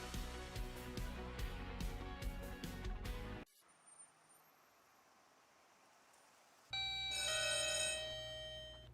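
Ringing tone from a business phone line advert, a bright bell-like ring rising loud near the end after a stretch of quiet hiss, following a busy musical opening.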